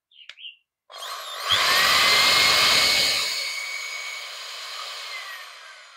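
An electric hammer drill for iron, wood and walls, a 230V secondhand Japanese unit, whirs up to a loud steady whine with a rattling low hammer burst early on, then keeps running alone.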